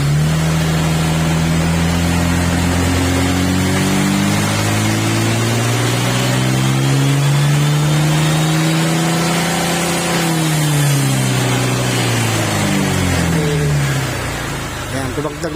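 A remapped Honda Click 125 V3 scooter engine revs up and down repeatedly, rising and falling in pitch up close, with people talking over the engine noise.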